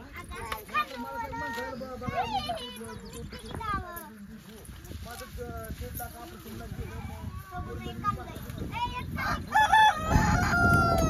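A village rooster crows through lively outdoor talk, its call rising among chatter with a clucking hen nearby, and a louder burst of activity arrives at the very end.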